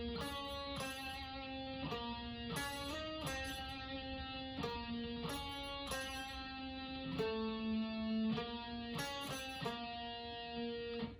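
Guitar riff from the metal remix of a song from Murder Drones, clear sustained notes and chord changes in a repeating pattern with short rhythmic stabs, played alone at a fairly quiet level.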